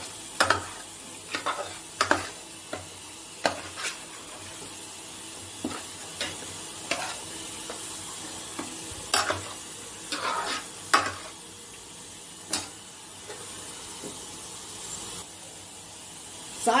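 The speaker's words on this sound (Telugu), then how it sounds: "చింతపండు గుత్తు వేసాక మరొకసారి బాగా కలపాలి" Spoon stirring through a curry of chandamama bedisalu after tamarind juice goes in, with a soft sizzle underneath and sharp scraping strokes against the pot at irregular intervals, close and fairly quiet, no voices.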